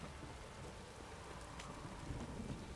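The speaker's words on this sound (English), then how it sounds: "This downpour's a bastard, it is." Steady heavy rain in The Witcher 3 hisses across the whole stretch, a dense downpour with a low rumbling undertone.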